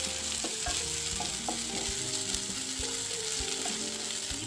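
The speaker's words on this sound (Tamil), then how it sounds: "இஞ்சி பூண்டு பச்சை வாசம் போகிற வரைக்கும் நல்லா வதக்கிக்கோங்க." Ginger garlic paste sautés in a pan for egg gravy, a constant bright sizzle with repeated scraping and clinking strokes of a spatula stirring against the metal, close and steady, no voices.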